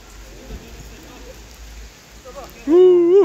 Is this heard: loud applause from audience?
no